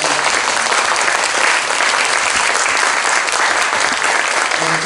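Audience at a Constitution Day special lecture applauding the speakers, a loud, sustained, even wall of clapping filling the room without pause.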